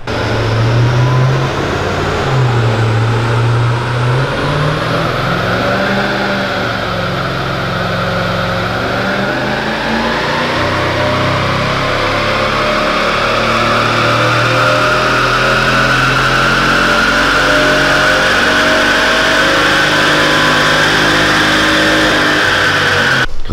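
A 21-year-old Mercedes AMG engine with 340,000 km revs continuously and loudly on a dyno, pitch climbing steadily as it accelerates under load, with no pauses.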